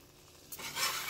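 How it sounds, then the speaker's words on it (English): Flour being stirred into melted butter for a roux in a pan over medium heat, a soft scraping and sizzling stir that starts halfway through and grows louder, close and alone. "And now start working in the flour to the butter and create a roux"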